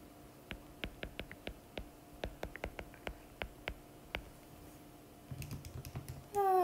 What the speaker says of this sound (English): I'm just typing that on my calculator